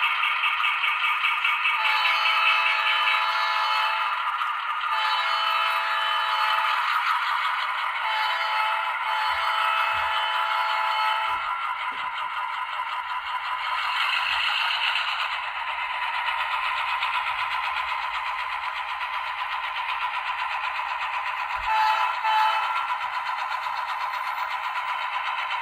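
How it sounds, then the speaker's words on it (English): An Atlas model train with an EMD SD45 locomotive sounds a steady electronic horn and bell tone while it runs along the track, a sustained buzzing drone with faint clicks underneath and no talking. "here is the horn. Here's the bell. And away we go, pulling by all Atlas train."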